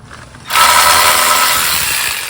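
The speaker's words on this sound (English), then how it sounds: "Take a minute to get my magnetic ratchet on there." Magnetic ratchet turning a bolt on a 2021 Honda Ridgeline during a 45k service: after a quiet start, a loud, close, rapid clicking whir sets in and continues steadily, easing slightly toward the end.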